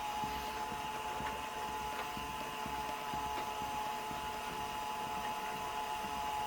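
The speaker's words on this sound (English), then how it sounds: "I think the motor is just working really hard, plus the sound of the 1x6 tiles clipping the back of the build when they come up" A LEGO and Mega Bloks build driven by a motor gives a steady, strained mechanical whir with a faint regular ticking as 1x6 tiles clip the back of the build, continuous and moderately quiet.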